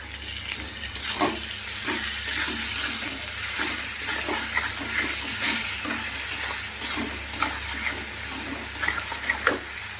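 Lote fish (Bombay duck) frying in a pan in a home kitchen, a continuous close sizzle with scattered sharp crackles and pops, no voices.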